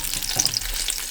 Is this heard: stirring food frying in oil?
yes